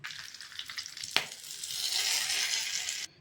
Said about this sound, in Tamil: இதுக்கு ஒரு தாளிப்பு கொடுத்துடலாம்